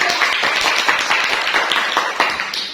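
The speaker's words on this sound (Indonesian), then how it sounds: "Silakan tepuk tangan untuk kelompok" A classroom group applauds after finishing its discussion presentation, loud dense clapping from many hands, close and continuous throughout.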